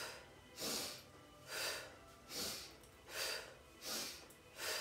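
During a slow yoga flow, a person breathes out five times through the nose, each exhale a soft, airy whoosh about a second apart, close and steady with quiet gaps between, and no talking.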